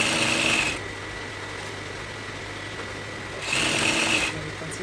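A sewing machine stitches along a kimono sleeve with a drawstring and organza panel, two short bursts of close, buzzing running separated by a quiet stretch of a few seconds.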